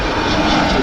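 An Air France Hop Embraer 190 jet at Manchester Airport gives a brief, loud, steady engine roar that fills the sound without a break.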